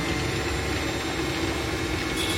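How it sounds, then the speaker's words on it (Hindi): A Singer 1306 Fashion Maker sewing machine runs steadily while automatically winding a bobbin, giving a continuous close motor whir and hum with no breaks. "अभी मैं नीचे से एक्सीलेटर स्टार्ट करने के बाद आप देख सकते हो बॉबिन ऑटोमेटिकली रिवाइंड होना चालू हो जाएगा।"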